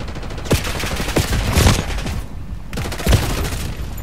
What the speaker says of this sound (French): Je tire à l'archangel.